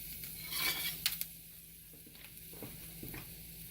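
Mushrooms fry and crisp in a hot pan, giving a steady hiss of sizzling with a few light clicks and taps from a utensil. The sound is close and moderately loud, with no talking.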